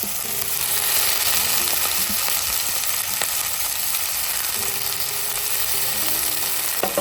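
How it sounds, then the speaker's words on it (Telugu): Punarnava leaves lightly frying in a pan with tomatoes for a chutney, a steady, loud, close sizzle running throughout with a few faint stirring taps. "ఈ ఆకుని లైట్గా ఫ్రై చేసేసుకోవాలి"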